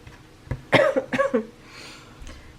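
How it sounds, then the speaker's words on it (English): A short run of harsh coughs, three or four in quick succession, close to the microphone, followed by quiet breathing. "Please excuse my cough."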